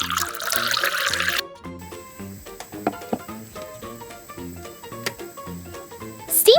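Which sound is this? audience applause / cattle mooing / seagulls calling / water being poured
water being poured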